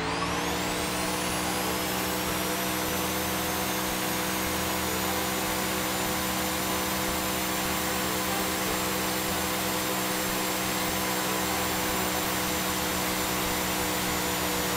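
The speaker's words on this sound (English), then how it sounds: "And full on the throttle again." A car engine holds a steady, continuous full-throttle drone with a high whine rising at the start, in The Long Drive video game, loud and unbroken with no talk.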